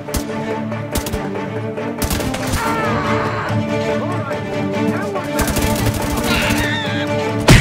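Gunfire in The Division 2 set in fallen Washington, D.C., with sharp, sporadic shots and short bursts over a dense layered game soundscape, while a player talks throughout.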